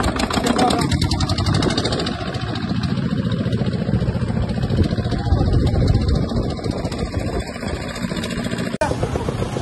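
A motorboat engine drones steadily throughout a slow boat ride on Tanguar Haor wetland in Sylhet, a loud continuous low rumble with voices talking over it, cutting off abruptly near the end.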